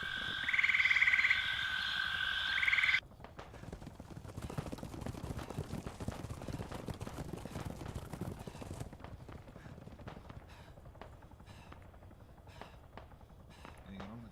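Tree frogs croaking loudly in Arma 3, a dense rhythmic chorus for the first few seconds that cuts off abruptly, followed by quieter crackling ambience under occasional talk.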